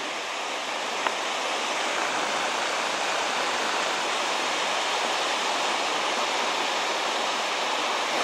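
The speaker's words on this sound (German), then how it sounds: "Aber Wasserfall ist Wasserfall." A small mountain waterfall in the Karwendel near Mittenwald rushes steadily, a continuous close hiss of falling water with no breaks.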